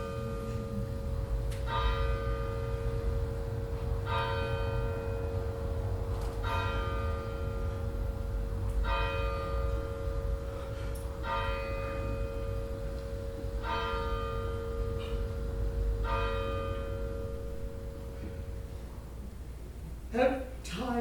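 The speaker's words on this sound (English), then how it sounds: "But then he heard church bells." A church bell tolls again and again at a slow, steady pace, each ringing strike hanging in the air over a low, constant rumble.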